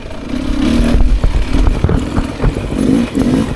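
A Beta 300 RR dirt bike, a 2024 Race Edition two-stroke, revs steadily in second gear with throttle pulses and a buzzing mid-pitched engine note, close and loud throughout.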